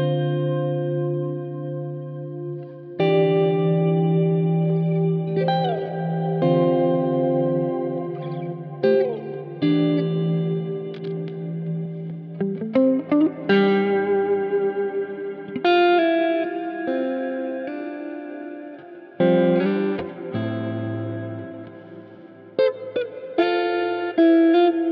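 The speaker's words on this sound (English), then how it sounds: "So this one is now cave, large cave-like reverb." An electric guitar plays chords and single notes through a Flamma FS02 reverb pedal set to a large cave-like reverb, each loud phrase washing into long, spacious tails that blur together.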